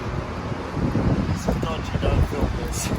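Steady wind buffeting and rushing over the microphone, a constant low roar with faint voices mixed in.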